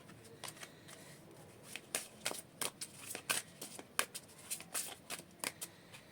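A deck of tarot cards is shuffled by hand up close: a quiet, steady series of crisp riffles and slaps, coming faster and sharper toward the end.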